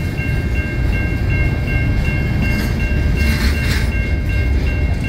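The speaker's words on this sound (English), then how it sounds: "Really short train." A short CN freight train led by an old Illinois Central locomotive rolls past on the Sorel Sub outside Montreal, Quebec. It makes a loud, steady rumble and roar with rhythmic wheel clatter and a faint squeal near the middle.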